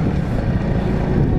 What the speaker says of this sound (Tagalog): Ramdam mo yung hampas sa'yo ng hangin